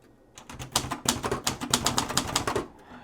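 Typing on an antique Royal manual typewriter, a rapid, close run of crisp mechanical key strikes with uneven rhythm, loud and alone, the machine shifting slightly as it is used.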